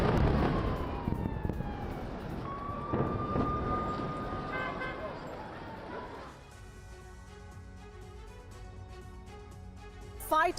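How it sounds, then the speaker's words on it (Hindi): Emergency sirens wail in Rafah after bombing on the border, a rising and falling tone sustained for several seconds under a noisy background, followed by a steadier stretch of alarm-like tones and scattered clatter. "राफा में बज रहे हैं इमरजेंसी सायरन"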